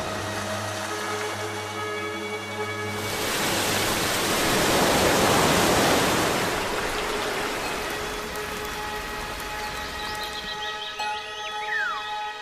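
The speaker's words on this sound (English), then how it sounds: "the rain, which rushes down in countless waterfalls" Steady rushing water from waterfalls in Venezuela swells to a loud broadband roar midway, then eases back, with a faint high tone near the end.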